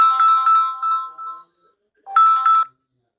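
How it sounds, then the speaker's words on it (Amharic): A phone ringtone from an incoming call plays as two separate bursts of bright, repeating electronic tones, fairly loud, with a short silent gap between them and no talking over it. "ስልክ ገብቶብህ ነው ያለው"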